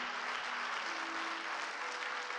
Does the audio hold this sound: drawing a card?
no